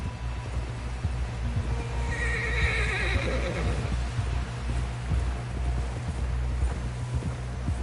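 A horse neighs loudly in Red Dead Redemption 2, a long whinny in the middle over continuous clip-clop of hooves and low rumbling game ambience.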